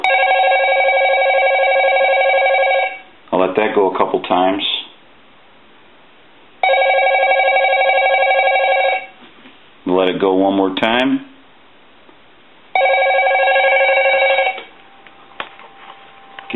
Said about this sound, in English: We also want to ring the phone.